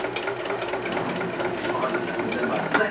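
A sewing machine steadily whirs and chatters close up while stitching a woven label onto a t-shirt, a continuous mechanical buzz with no talk.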